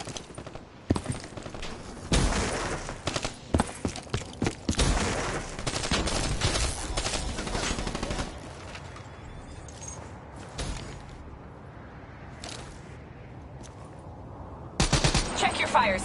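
Video game gunfire in repeated sharp bursts and single loud shots, some rapid and overlapping, with quieter gaps of background noise and a final volley at the end, with voices speaking in between.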